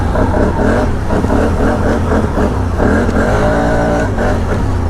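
A 2023 Can-Am Outlander 850 XMR ATV engine revs hard and accelerates, its loud, steady roar rising and rumbling continuously close by, with no talking.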